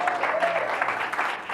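Brief applause from a church congregation at a Primicia Ministries service in Miami, Florida: a short burst of dense clapping with a voice faintly present beneath it.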